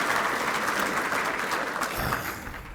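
Applause from the audience at a military ceremony for a graduating sergeants' class: dense, sustained clapping from many hands, steady and loud before tapering slightly at the end.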